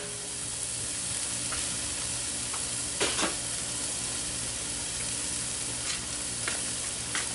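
Chopped bacon, about three slices, frying in a Dutch oven for shrimp gumbo: a steady close sizzle with scattered sharper pops and crackles, no voices.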